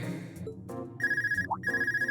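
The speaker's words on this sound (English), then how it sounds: "No time for that. You're getting a phone call, Reen." A telephone in the video game Legend of Heroes: Trails of Cold Steel rings in two clear trilling bursts over soft in-game background music.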